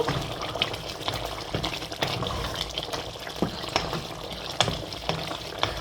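Boiling water poured into a pot of chicken curry with already-cooked meat, giving a steady close splashing, bubbling wash broken by a few sharper clinks and sizzles, with no talk over it.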